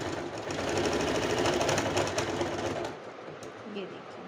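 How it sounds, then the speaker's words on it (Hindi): A sewing machine runs a single line of stitching to join kurti neckline pieces, a fast continuous whirring rattle that stops after about three seconds, then quieter handling sounds with soft bird cooing in the background. "यहाँ सिंगल स्टिचिंग से मैं इन दोनों पार्ट्स को जॉइंट कर रही हूँ"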